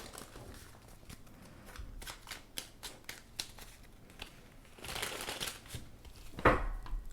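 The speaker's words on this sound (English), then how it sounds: "I'm throwing cards here." Tarot cards are shuffled and laid out on a surface: close papery flicks, soft slaps and riffling, irregular in rhythm, faint with a few sharper taps.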